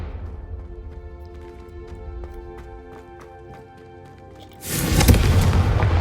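A confringo fire spell bursts into a loud, roaring blast in Hogwarts Legacy, a sudden broadband whoosh that swells and sustains after a stretch of quieter tonal game music.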